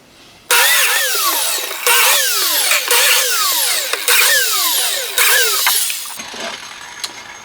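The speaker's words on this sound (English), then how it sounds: "I will cut the biscuit holes here" A biscuit joiner plunges into wood to cut slots for number 20 biscuits, giving several loud whining bursts that spin up and wind down in turn, close to the microphone with short pauses between cuts.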